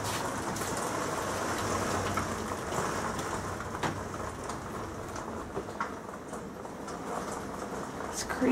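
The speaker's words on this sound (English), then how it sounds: "it's been raining all week" Steady rain falls outdoors as a constant broadband hiss, with scattered patters throughout; a voice may murmur faintly beneath it.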